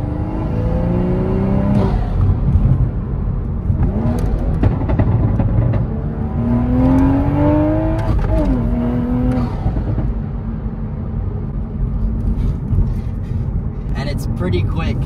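A 2023 manual Toyota Supra with a stock exhaust and no tune accelerating through gears, engine note rising and dropping at each shift, heard from inside the cabin under steady talk.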